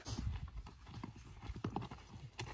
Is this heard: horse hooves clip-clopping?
yes